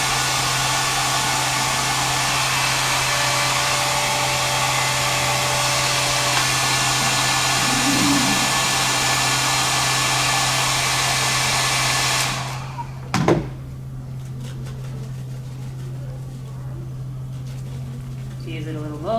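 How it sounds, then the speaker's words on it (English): Hair dryer blowing hot air on a wig, a loud steady whir running alone for about twelve seconds, then cutting off into room noise and brief clatter. "We use the hair dryer."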